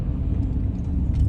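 A big Ford F-150 pickup truck drives past at night on a town street, a steady close engine rumble with low road noise throughout.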